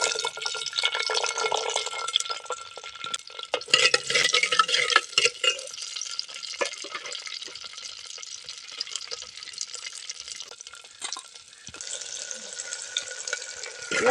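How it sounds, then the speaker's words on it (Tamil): Onions dropped into hot oil and frying in a pan, a loud crackling sizzle that bursts up early and then settles into a steady, close hiss with small pops and stirring. "எண்ணெய் காய்ஞ்சிருச்சுங்க, வெங்காயத்தை கொட்டி வணக்கணும்."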